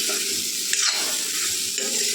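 Potatoes and soybean chunks sizzle steadily in a frying pan as a little water goes in, giving a continuous close hiss with a few brief stirring clinks and no voices.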